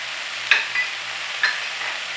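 Mutton keema with crushed fennel, cumin and coriander roasts in a pan, a soft continuous sizzle broken by a few sharp scraping strokes of a spoon, close and alone.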